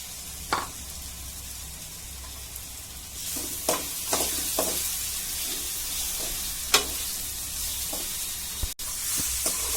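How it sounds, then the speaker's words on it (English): Chopped garlic, twelve cloves, frying in hot oil in a pan for a fish curry, giving a steady close sizzle with occasional clinks and stirring scrapes, no talking. "I am going to fry this garlic, the 12 pods of garlic which I chopped into pieces."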